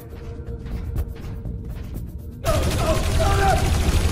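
Sustained gunfire bursts in the video game Dreamfall Chapters, a dense loud volley starting abruptly midway after a quieter stretch with a voice speaking over faint background sounds.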